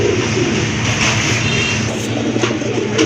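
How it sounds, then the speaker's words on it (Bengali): Pigeons at a market where domestic and foreign breeds are sold, including Andalusian-coloured birds: soft cooing mixed into a dense, steady outdoor din, with faint chirps over the continuous background noise. "আরেক জোড়া মুখী কবুতর"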